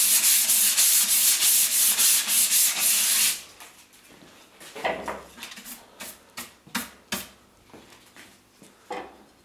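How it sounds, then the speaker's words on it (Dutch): An MDF plinth is sanded smooth by hand with steady, fast rubbing strokes for about three seconds. Scattered scrapes and light knocks follow, up close and with no talking. "Dan wordt hij nog mooi geschuurd"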